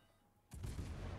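A warship's guns in a naval battle game go off in one sudden deep boom after a near-silent moment, the blast rolling on as a low, loud rumble.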